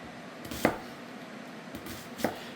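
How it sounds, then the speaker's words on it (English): Chef's knife chopping onion on a board for pico de gallo: two sharp, isolated cutting knocks about a second and a half apart, close and fairly quiet, with no talking. "with a regular chef's knife, rather than chopping wild, what I do is I rock it"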